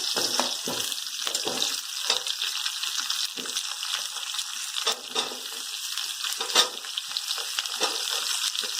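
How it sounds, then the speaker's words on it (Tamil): Chopped onions and about a dozen dried red chillies fry for onion chutney in a pan, a dense continuous crackling sizzle with occasional stirring scrapes throughout, close and fairly loud. "நம்ம கட் பண்ணி வச்சிருக்க வெங்காயத்தை ஆட் பண்ணிக்கலாம்"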